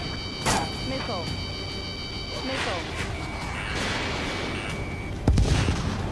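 Sharp gunshots and heavy thumping artillery blasts in the video game Ace Combat crack out irregularly, one deep explosion near the end, over a steady background din with faint radio talk mixed in.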